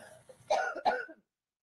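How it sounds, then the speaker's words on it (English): Two sharp, close coughs in quick succession from a single person, the second following about a third of a second after the first, with quiet before and silence after. "That was my cough."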